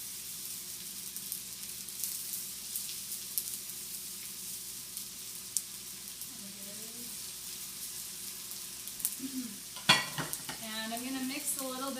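Udon noodles sizzle in a pan while being stirred and tossed, a steady hiss with light scraping and clicks, and a voice murmurs faintly in the background.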